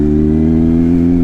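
A KTM RC390 or RC200 motorcycle drones past on the road with a loud, steady, low engine note, heard briefly and up close without talk.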